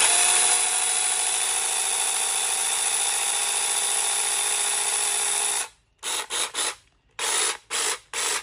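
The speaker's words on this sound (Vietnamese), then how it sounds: "bên em dần xin giới thiệu với các bác đó là một cái mẫu cưa pin" Cordless battery-powered brushed-motor saw running steadily and loudly for several seconds, then cutting off into short bursts of revving with pauses between them.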